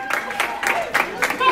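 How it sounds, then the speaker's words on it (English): A crowd clapping along in a group dating game show setting, a moderate burst of rhythmic claps with voices talking over it. "go ahead and clap it up for me, man"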